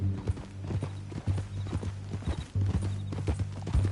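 A horse's hooves clip-clop in Red Dead Redemption 2, a close, steady rhythm of hard hoof strikes over a low droning background.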